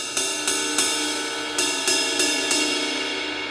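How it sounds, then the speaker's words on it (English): Large ride cymbal struck on its top surface rather than crashed, giving a steady series of about eight bright, shimmering pings with a sustained wash ringing between hits, close and alone. "This is called a ride cymbal."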